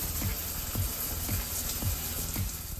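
Water from a hotel monsoon rainfall shower pours in a steady, dense hiss, close and unbroken, with faint rhythmic thuds beneath.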